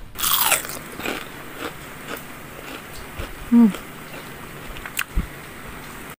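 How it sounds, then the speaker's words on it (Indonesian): Crunchy bites into crispy shrimp and corn fritters with chili, a loud crackling crunch at the start followed by quieter chewing and a few sharp crisp snaps. "Garing, renyah, dalamnya lembut."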